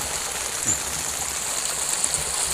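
Spring water flowing down from the mountains at Phu Wiang, Thailand, rushes and splashes steadily in the morning, a constant broadband flow, with no voices.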